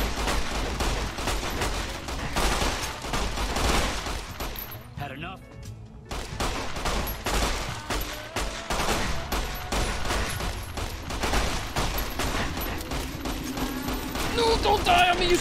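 Machine gun fire in Fallout: New Vegas, loud and dense rapid bursts that rattle on almost nonstop, briefly dropping away for about a second before resuming at full intensity.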